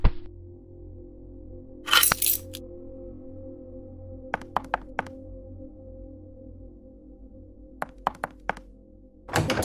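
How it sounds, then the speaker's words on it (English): In the horror game Weeping Doll, a locked door is tried, making a few sharp rattling knocks and clicks in short bursts over a low steady background hum. "The door is locked."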